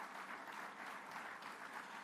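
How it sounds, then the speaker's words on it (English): Audience applause at an award ceremony where the President of Rwanda is introduced, a steady, dense crowd clapping that fills the whole stretch at an even, moderate distance. "Can we please clap hands for him?"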